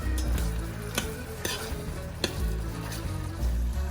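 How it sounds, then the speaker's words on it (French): Onions caramelizing in a pan, a close steady sizzle punctuated by regular spatula scrapes and taps against the pan, with no talking. "les oignons commencent à doucement caraméliser, à se glacer"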